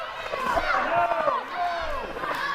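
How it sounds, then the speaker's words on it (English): A wrestling crowd jeers and boos Tony King at a title tournament final, a dense wash of many voices rising and falling continuously around the ring. "And the crowd once again letting Tony King know that he sucks."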